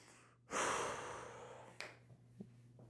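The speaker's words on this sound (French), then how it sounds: "On prend une petite respiration." One breath drawn in during an adapted karate class, a soft close inhalation that swells quickly and trails off over about a second, followed by faint small bumps in a quiet room.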